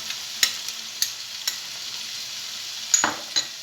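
Seafood and powdered garlic fry in a hot pan over high heat, giving a faint, steady sizzle broken by a few sharp clicks and scrapes of stirring.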